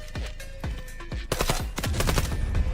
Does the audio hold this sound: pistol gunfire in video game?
yes